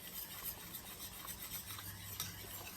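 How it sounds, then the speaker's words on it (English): A seasoning mixture with black pepper is whisked in a bowl for beef tips, a quiet, steady scraping and swishing with no voices. "I'm just gonna give it another good whisk"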